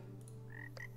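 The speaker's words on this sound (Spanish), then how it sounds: "Aquí hay aquí una rana." Frog croaking in a video game about farming and evolving nature, a couple of short croaks standing out over a steady synthetic ambient music bed, clear and close.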